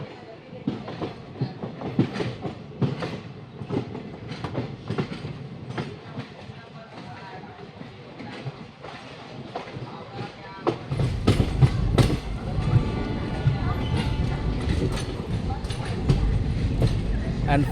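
A Bilaspur–Raipur passenger train runs on Indian rails, its wheels clattering in a steady clickety-clack that swells louder and heavier partway through, close by, with someone talking over it.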